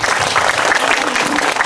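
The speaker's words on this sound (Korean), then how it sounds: "박수 한번 부탁드리겠습니다" Audience at a film screening talk event in Korea bursts into dense, continuous clapping, loud and close throughout the short stretch.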